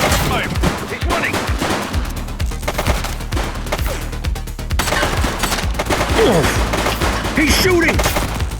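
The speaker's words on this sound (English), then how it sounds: "He's shooting!" Sustained bursts of automatic gunfire from The Precinct police video game, rapid loud rattling shots overlapping in dense volleys, with brief shouted voices in the background.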